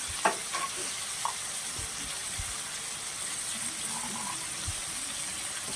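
Green peas fry with turmeric in a kadai, giving a soft, steady sizzle with a few light clinks of stirring scattered through.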